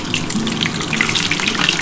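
Duck egg frying in oil in a pan, a steady, dense sizzling hiss that stays loud and even throughout with no voices.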